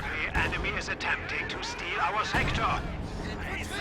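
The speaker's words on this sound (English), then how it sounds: "Another Zis barrage going on." A ZiS artillery barrage in Company of Heroes 2 pounds with repeated dull booms and gunfire rumbling under continuous commentary.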